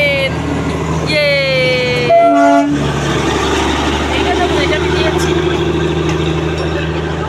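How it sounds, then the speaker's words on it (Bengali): A horn blares in short tonal blasts over a steady low rumble as a train draws near in Darjeeling, with faint voices in the background. "দেখো ট্রেন আসছে ট্রেন"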